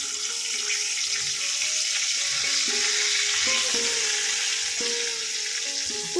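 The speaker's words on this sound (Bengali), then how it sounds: "আলুগুলো আমি ভেজে নিচ্ছি" Potatoes frying in oil in a home kitchen pan, a steady hissing sizzle throughout with intermittent clinks and scraping of a utensil against the pan, close and moderately loud.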